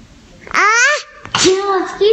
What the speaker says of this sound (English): I tried not to sneeze on you.